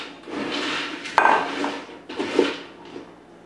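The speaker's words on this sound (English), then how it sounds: "I'll add the rice and wheat squares," Dry rice and wheat cereal squares tumble into a bowl in two or three clattering pours, crisp and close up, with no talking over them.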